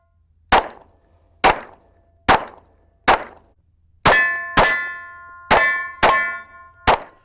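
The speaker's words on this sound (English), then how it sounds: "Let's shoot a couple rounds here. At steel, 10 yards." Nine gunshots strike steel targets 10 yards away, each a sharp crack with a ringing metallic clang. Four evenly spaced single shots come first, then a faster string of five whose ringing lingers longer.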